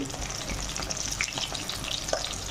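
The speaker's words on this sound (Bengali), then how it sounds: "দেখো ডিমগুলো উল্টে পাল্টে ভেজে নিলাম।" Eggs fry in hot oil in a pan, a dense continuous sizzle with small crackles and pops throughout, close and steady with no voices.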